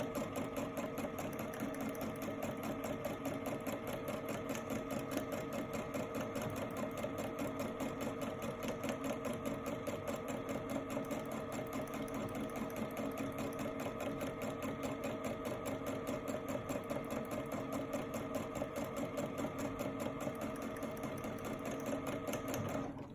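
Steady, continuous whir of a sewing machine doing free-motion stitching on fabric, running nonstop at an even speed, close and loud with no talking.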